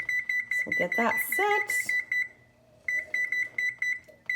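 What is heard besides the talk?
kitchen timer beeping as it is set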